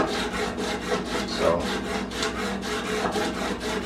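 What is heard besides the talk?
sanding knife blade bevel with sanding block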